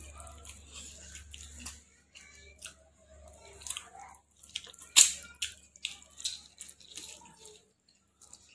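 Someone eats chicken leg pieces in egg gravy close to the microphone, giving soft, wet, irregular chewing and squishing sounds with a few sharper bites, quiet between them.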